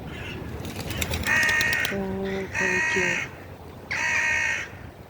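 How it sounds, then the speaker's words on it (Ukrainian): Crows caw in repeated harsh, nasal bursts, three loud calls spaced about a second apart, close to the recorder over a faint outdoor background. "То щось ворона скаже, то щось пташка заспіває."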